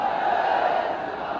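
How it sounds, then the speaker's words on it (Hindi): A large crowd at an outdoor political rally in Kushinagar roars and chants a religious slogan in unison, a dense sustained wall of many voices lasting the whole moment without pause. "दोनों हाथ उठाकर बोलिए जय श्री राम"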